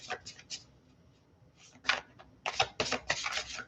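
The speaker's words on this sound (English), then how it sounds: "I just can't seem to shuffle the cards the way I want to shuffle them" A deck of tarot cards is shuffled by hand, giving quiet irregular riffles and flutters in short bursts, close and soft, with stretches of near silence between.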